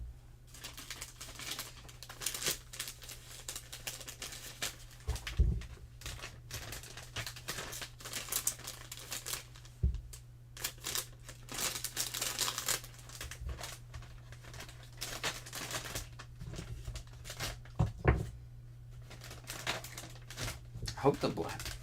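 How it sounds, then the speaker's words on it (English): A plastic baggie crinkles and rustles in bursts while small miniatures are packed into it, close and uneven, with a person talking intermittently under the handling noise. "I hope the plastic bag mushing isn't destroying everyone's ears."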